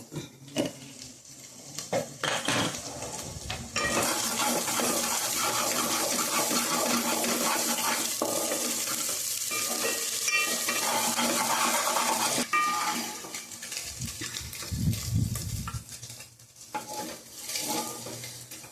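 Egg frying in plenty of oil with chilli powder, salt and turmeric, a loud, steady sizzle that holds for most of the stretch, broken near the end by louder clatter and scraping close by.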